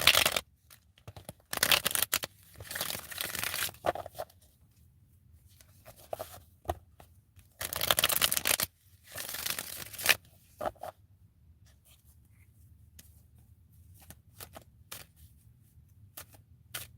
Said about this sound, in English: I'm shuffling and I'm getting ready to start your reading now, Nina.